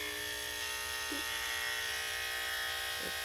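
Electric grooming clippers with a worn 40 blade running continuously, a steady close buzzing hum with a couple of faint brief changes in tone.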